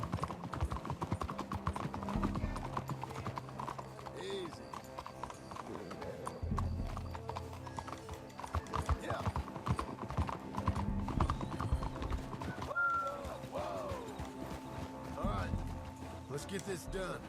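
Horse hooves clip-clop steadily in the Red Dead Redemption 2 video game, with occasional whinnies and someone talking over them throughout.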